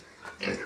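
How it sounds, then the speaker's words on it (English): Pigs in pens on a piggery farm in India, giving a brief, faint grunt or two amid quiet farmyard background. "And here too they have some pigs."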